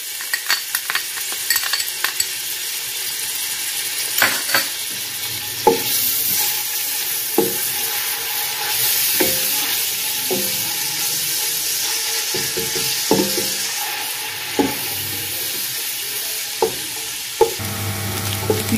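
Crushed fresh garlic and ginger fry in about half a cup of cooking oil, a steady close sizzle broken by frequent sharp clinks of a spoon stirring in the pan, with no voices.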